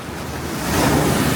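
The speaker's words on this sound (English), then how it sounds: "Waiting for the ocean to take a momentary break. Oh no, oh, that's a big wave right there." Ocean waves crash against rocks, a loud broadband wash that swells and builds toward the end, mixed with wind buffeting the microphone.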